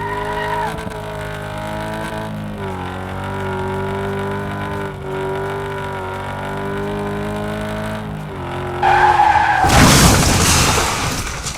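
A simulated car in Car Mechanic Simulator 2026 drones steadily through a lap with a manual gearbox, engine pitch dipping at shifts, then tires skid and squeal loudly near the end.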